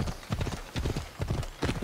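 Horse hooves clip-clop in a quick galloping rhythm in Assassin's Creed Odyssey, about four close, loud bursts of hoofbeats with a faint snort, and no voices over them.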